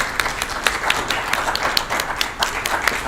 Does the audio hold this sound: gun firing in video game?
no